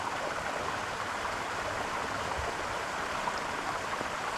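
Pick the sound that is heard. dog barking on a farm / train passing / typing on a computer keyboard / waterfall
waterfall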